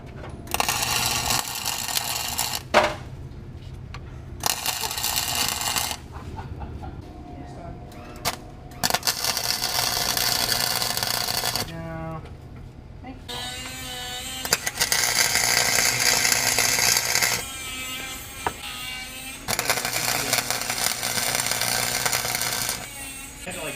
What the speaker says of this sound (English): I'm ready to tack weld this bad boy into place.